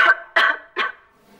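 Three sharp, harsh coughs come in quick succession from a sick person, loud and close, each bark-like burst fading before the next, then quiet.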